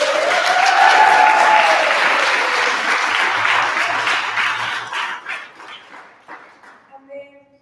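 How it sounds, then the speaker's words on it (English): Audience applause after math lab sessions at a conference, loud broadband clapping that fills the first five seconds, then thins into scattered claps as voices talk and a dog barks faintly near the end. "Can we just give everyone a big round of applause?"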